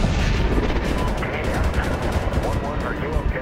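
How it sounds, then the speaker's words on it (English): Dense, loud battlefield roar from Medal of Honor (2010) on PC, with rocket fire and an explosion amid continuous gunfire, steady and close throughout with speech mixed in. "Shit, RPG."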